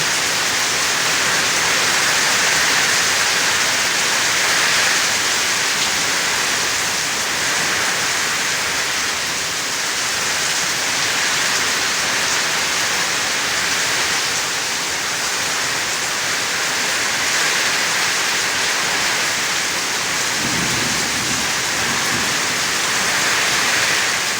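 Heavy rain pours down continuously in a dense, loud, hissing wash, steady and unbroken with gusts of wind and no voices.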